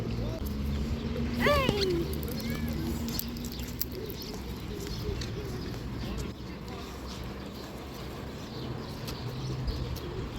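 Pigeons coo outdoors while being fed sunflower seeds, a soft cooing and scattered bird calls mixed with steady background noise, with people talking over them throughout.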